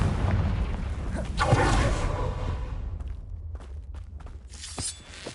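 A Confringo blasting spell goes off in a video game: a heavy rumbling boom swells around the midpoint, then scattered sharp pops and crackles follow as the blast fades into quieter debris sounds.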